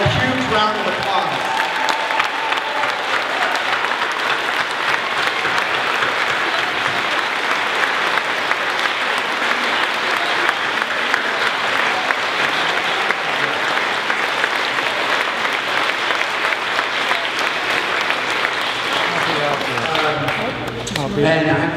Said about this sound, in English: give them one more huge round of applause